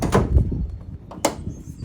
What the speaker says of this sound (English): It's got barn doors on the back.